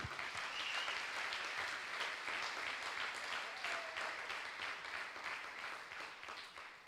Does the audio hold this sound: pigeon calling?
no